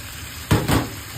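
A short burst of sizzling and scraping as carrot is tossed and stirred into frying yakisoba in a hot pan, rising suddenly over a steady background hiss.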